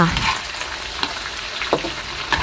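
Oil crackles and sizzles steadily in a hot iron wok as an omelette with minced chicken fries, with a few soft scraping clinks from a spatula, close by and no talking.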